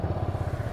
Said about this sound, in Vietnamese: Đó, nổ máy ha.